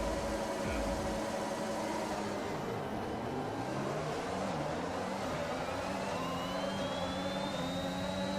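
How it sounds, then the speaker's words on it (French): F1 cars launch at the start of the Italian Grand Prix in the F1 2021 video game, their engines droning in a dense, sustained roar with a whine that climbs steadily in pitch as the pack accelerates. "Départ du Grand Prix d'Italie."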